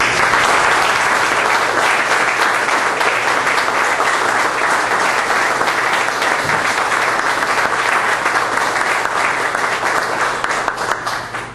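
Loud, sustained audience applause at a book presentation on a century of Puerto Rican trade unionism, dense and continuous from many hands for over ten seconds, easing slightly at the end.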